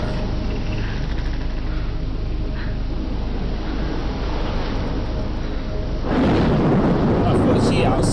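A thunderstorm rumbles through the video game Life Is Strange as a deep, continuous roar of rain and thunder that swells into a louder, harsher burst about six seconds in.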